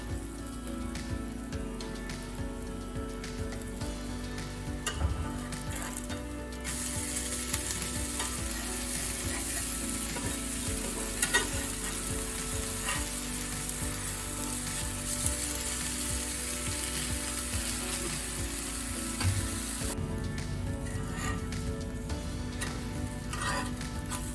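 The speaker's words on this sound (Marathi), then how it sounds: "दोन्ही बाजूने आपले उत्तपे भाजले" Puffed rice uttapam fries in oil on a pan with a continuous crackling sizzle for over twenty seconds, near and even, with occasional light scrapes and no voices.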